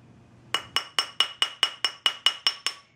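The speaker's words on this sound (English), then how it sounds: "I'm hammering the opening on the end here" A rubber head mallet strikes a brass ring on a ring mandrel, sounding as ten evenly spaced, bright metallic clinks, each with a short ringing decay. The strikes are close and loud, with no talking.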